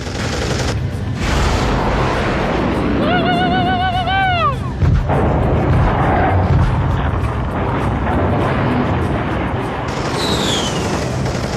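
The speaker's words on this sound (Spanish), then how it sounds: "Las 3 bombas de Velasco destrozaban el lado de babor del barco." Bombs striking and blasting a warship's port side, rendered as a dense, loud roar of explosions and rapid gunfire with a whistling, descending tone partway through, continuous throughout.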